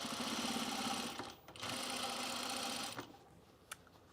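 A sewing machine stitches pajama fabric in steady close runs, a fast mechanical whir that stops briefly, restarts, then winds down to a few soft clicks.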